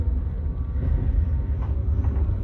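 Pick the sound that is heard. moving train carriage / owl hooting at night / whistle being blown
moving train carriage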